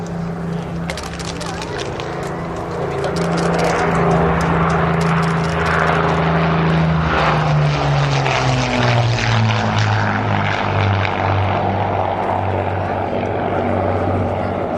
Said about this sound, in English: Here he comes again on a high-speed pass from the left.